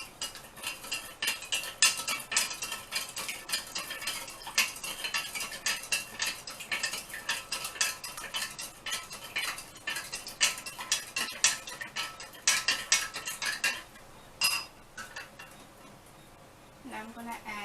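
Waffle batter for pink waffles is mixed in a bowl with a utensil, giving steady close clinking, tapping and scraping that runs continuously before thinning out near the end.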